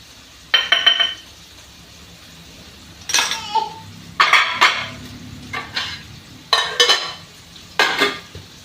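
Spoon scraping and clinking against a pan as red chilli powder, turmeric and salt are mixed in, several separate bursts of stirring with quiet pauses between, close and fairly loud, no talk.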